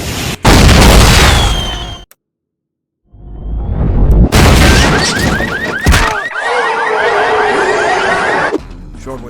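Gas tanks blow up in the video game Half-Life: Blue Shift, loud booming blasts with crashing debris, a brief silence, then another heavy explosion followed by rattling, chirping game effects.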